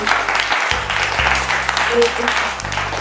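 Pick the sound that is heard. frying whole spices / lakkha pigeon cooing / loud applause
loud applause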